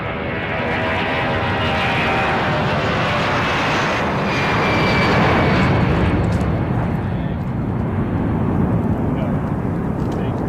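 A loud, roaring airplane engine passes close and very low overhead on landing approach, a dense broadband rumble with a whining tone that swells and holds for several seconds.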